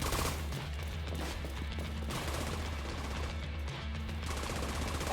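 Sustained gunfire in The Division 2, a dense, continuous rattle of rapid shots with rumbling low end, fairly quiet and steady throughout with brief dips between bursts.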